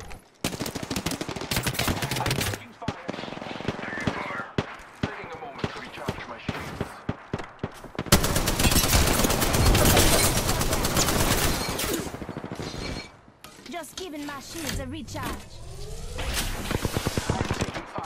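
Incoming gunfire in Apex Legends: dense bursts of automatic and single shots crack loudly in rapid succession, with brief lulls and heavier sustained fire midway, under a player's voice and game effects.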